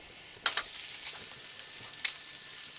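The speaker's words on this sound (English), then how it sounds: "The new coals are burning hot." Beef ribs cooking over freshly added, very hot coals on an outdoor grill, giving a quiet, steady sizzle with a couple of brief crackles and pops, with no talk.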